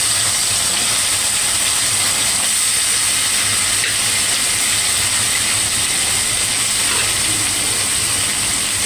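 Chicken hits a hot pan and fries in a loud, steady, broad sizzle with a hissing edge that continues unbroken, close and with no talk over it.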